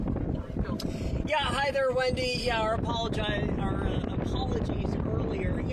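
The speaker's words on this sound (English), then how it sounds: "I know it's windy out there" Gusty wind buffets an outdoor news reporter's microphone during live coverage of a fire near the Columbia River Highway, a steady rumbling roar running beneath the reporter's continuous talking.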